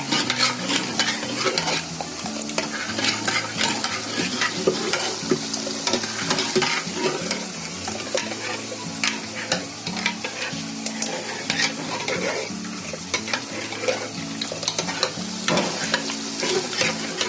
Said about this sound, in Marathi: असं खोल चमचा घ्यायचा आणि त्यांनी अशी चांगली घोटून घ्यायची डाळ